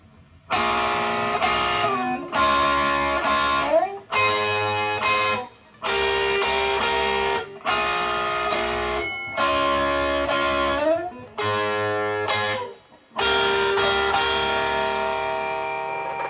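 Slow electric guitar chords with a distorted tone, each struck and left to ring for about a second before the next, in a deliberate, even rhythm.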